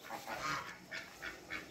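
Backyard chickens and roosters kept in a separate pen call out in a series of short, repeated squawks at close range, with no voices over them.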